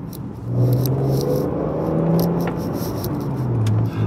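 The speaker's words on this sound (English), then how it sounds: "I mean, that just lovely V6 wobble." An MG ZT 190 with its KV6 V6 engine accelerating on a hill climb, a steady, close, rumbling engine note that swells early and holds a warm, throbbing tone.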